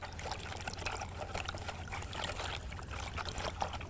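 Krill and crab liquid flavouring being whizzed into groundbait, a steady wet churning and trickling with no break, close and fairly loud, with no talk.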